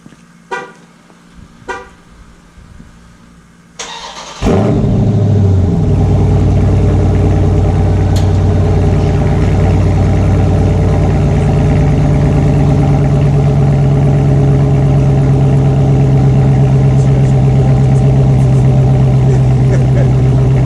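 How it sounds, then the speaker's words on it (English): A 2019 Dodge Charger Scat Pack with a Borla S-Type catback exhaust starts from cold after a few quiet seconds of voices and clicks, cranking into a loud, deep, steady high idle that drones on close by. "So we got the full Borla S-Type Catback exhaust system installed, and we're gonna fire it up for the first time."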